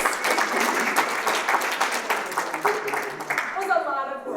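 Audience at an annual public projects meeting breaks into sustained applause, dense and steady throughout, with a voice starting to talk over it near the end.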